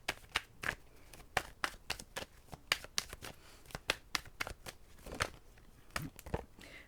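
Tarot cards being shuffled and drawn during a daily reading, giving a quick irregular run of sharp riffling snaps and flicks close to the microphone, with no talking.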